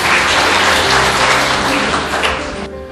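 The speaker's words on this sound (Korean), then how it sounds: "힘찬 박수 맞으시면 감사하겠습니다." An audience at a Korean livestock industry forum breaks into loud, dense applause from many hands nearby, fading slightly toward the end.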